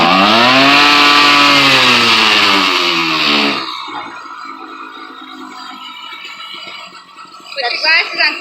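A very loud mini motorcycle engine revs hard up close for a few seconds with a rising and falling whine, then drops to a rattling idle before another brief burst at the end.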